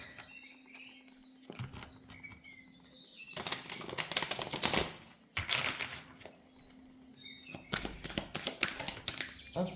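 Tarot cards are shuffled and riffled in soft, fluttering bursts, close and moderately loud, with quiet pauses between passes.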